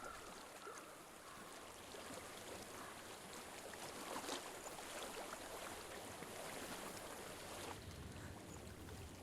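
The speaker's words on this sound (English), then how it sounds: "I hear water." In the video game Hellblade: Senua's Sacrifice, flowing water makes a steady, even rushing wash that continues throughout with no breaks and no talk.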